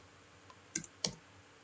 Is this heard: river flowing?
no